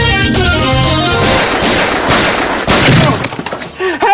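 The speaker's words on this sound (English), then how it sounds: "Shots fired! Shots fired!" Gunfire in a movie scene: dense, loud bursts of shots packed over a chaotic, roaring mix, easing off near the end, with voices shouting underneath.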